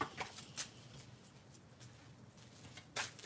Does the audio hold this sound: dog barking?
no